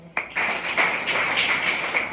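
Government middle school children clapping together on request, a sudden burst of brisk applause that stays steady and close after one sharp opening clap.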